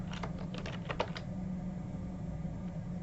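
Keys clatter on a computer keyboard in a short burst of quick typing for about a second, then only a steady low hum remains, close by and without speech.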